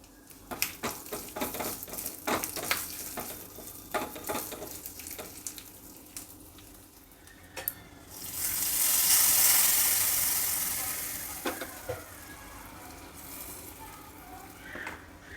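Hot oil sizzles in a pan as curry leaves, asafoetida and dried red chili are added for a tempering, swelling into a loud hissing burst midway amid scattered clinks and stirring sounds, with quiet background noise around it.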